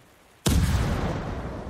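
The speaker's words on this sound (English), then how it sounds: "I just threw a bomb." A sudden loud bomb explosion in the video game Ghost of Tsushima bursts out of near silence, a deep booming blast that rumbles and slowly fades.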